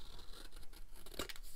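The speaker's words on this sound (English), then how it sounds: "Taking some scissors, cut up into that fold at an angle." Scissors cut through folded paper at an angle, quiet crisp snipping and rustling with one sharper cut near the end, close and faint with no talk.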